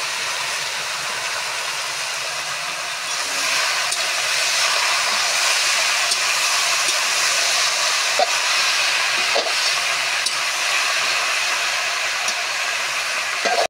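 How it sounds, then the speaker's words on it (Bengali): Bottle gourd with coriander powder and green chillies sizzles in a frying pan, a steady, loud broadband hiss that continues unbroken throughout, with faint scattered crackles. "এখন সব একসঙ্গে ভাজা হবে।"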